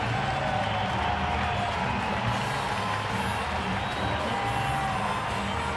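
A baseball stadium crowd at a San Francisco at Colorado game cheers and stands in acknowledgment, a broad sustained roar of distant voices and applause filling the whole stretch.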